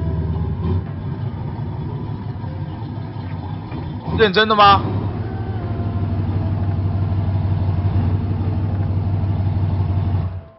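A Minecraft car engine hums low and steady in the background throughout, while a person talks over it and one brief sharper sound cuts in midway.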